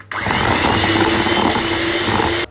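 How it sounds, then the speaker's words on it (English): Electric mixer beating butter alone in a bowl for a carrot cake frosting, a loud steady motor whir starting abruptly and running without a break before cutting off. "we're gonna mix the butter, just butter alone, just to soften it up a little bit"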